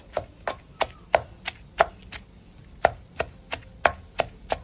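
Khai mushrooms pounded in a mortar, Isan style, with a pestle striking in a steady rhythm of about fourteen close, sharp thuds and no talk.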